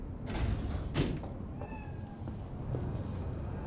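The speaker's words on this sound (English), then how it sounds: "Heard the cat." A cat meows in the video game Cyberpunk 2077, a couple of short calls over a quiet ambient game background, with faint creaks and mechanical tones.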